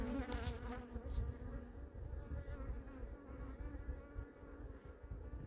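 Honeybees at their hives make a dense, continuous buzzing close by, steady and fairly quiet, with no voices.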